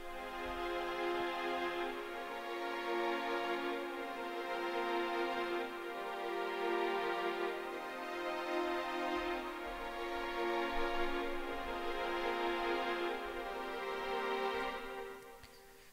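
Sustained string section from the Flex plugin's All String Sustain preset, holding long, rich chords with a slow swelling rise and fall, played alone and fading near the end.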